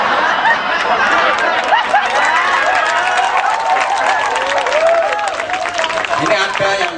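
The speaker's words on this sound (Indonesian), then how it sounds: "Aku tahu dia ikut tepuk tangan kok" Audience at an Islamic religious sermon clapping and chattering together, a dense continuous crowd noise with voices talking and calling out over the applause throughout.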